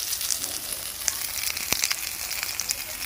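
Salted eggplant slices frying in oil left over from frying small fish, a loud, steady close sizzle with scattered crackles and pops.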